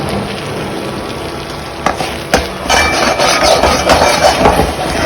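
A spoon scrapes and stirs vegetable makhni gravy in a pan, with a steady loud sizzle of frying throughout and a few sharp knocks against the pan.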